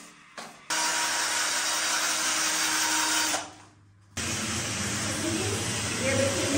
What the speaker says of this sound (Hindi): ये ड्रिल से सुराख कर रहे